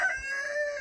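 A rooster crows in a short, sustained, tonal burst, moderately faint and heard alone.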